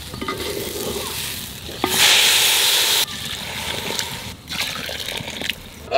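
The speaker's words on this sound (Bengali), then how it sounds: "3 বাটি জল দেবো" Water is poured into a pot holding two bowls of rice, three bowls of water in all. A loud gushing burst lasts about a second amid nearby stirring, scraping and clatter, with no talk.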